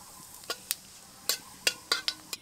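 A bay leaf, whole cumin and split cardamom pods hit hot mustard oil in a pan, giving a soft background sizzle broken by several sharp close clicks and taps of spices and a stirring spoon.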